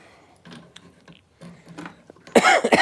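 A few faint muffled sounds lead into a loud, harsh cough burst near the end, close to the listener.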